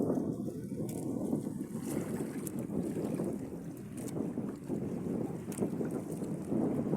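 A small wooden plywood boat rumbling steadily over choppy, rough sea waves, with constant wind buffeting and splashing throughout.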